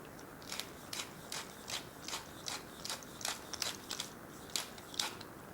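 Pepper mill grinding pepper for a blender preparation, a quiet rhythmic series of about a dozen ratcheting crunches at a steady pace, close and faint over a low background hiss.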